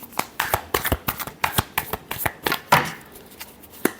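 Tarot cards are shuffled by hand in a crisp series of riffling flicks and soft slaps, close and fairly loud, repeating at an irregular rhythm over a few seconds.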